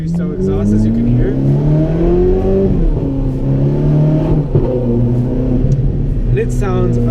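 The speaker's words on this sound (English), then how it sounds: "This does have a Capristo exhaust, as you can hear." A 2007 Ferrari F430 Spider with a Capristo aftermarket exhaust, heard from the cabin under way, gives a loud, steady engine drone with rising and shifting revs, a brief dip in the middle, and the driver talking over it.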